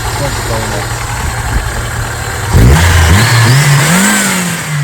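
A 1994 Opel Astra F engine idles steadily, then revs up sharply about halfway through, climbing in pitch and holding at a higher, louder drone, close and alone.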